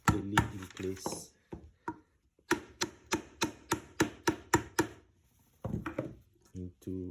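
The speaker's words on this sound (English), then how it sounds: "We give the dust seal a little bit of knock with the mallet so that it sits completely in place." A mallet taps a dust seal into place on a 2002 Marzocchi Bomber MXC Air bicycle suspension fork, a run of about ten sharp, evenly spaced knocks between stretches of speech.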